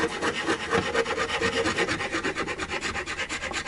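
Sandpaper rubbed by hand along a wooden Strat-style guitar neck, a close, steady rasping in even back-and-forth strokes of about three per second, with no talk.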